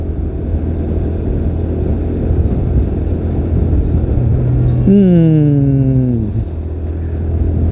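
A TVS Apache RTR 160 4V motorcycle engine revs up with a rising whine, climbing in pitch for about two seconds before dropping off, over steady road rumble and traffic noise.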